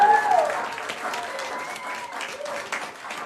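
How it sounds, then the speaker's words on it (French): Audience applause fills the room, a steady wash of clapping with cheering voices mixed in, fairly loud and continuous throughout. "On peut s'applaudir."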